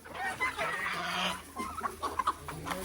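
A chicken clucks in short, uneven bursts over a steady low background hum, fairly close and moderately loud.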